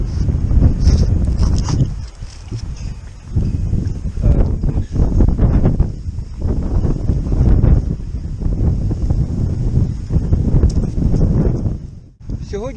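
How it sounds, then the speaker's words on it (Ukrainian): Strong wind buffets the microphone of a cyclist touring the Balkans near Alexandroupoli, in loud, continuous low rumbling gusts, briefly dropping off near the end. "Сьогодні сильний вітер."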